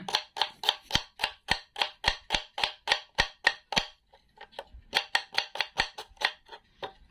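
A kitchen knife chops food on a cutting board at home in rapid, evenly spaced sharp knocks, a steady run of about fifteen strikes, a brief pause, then another quick burst, close and crisp with no talking.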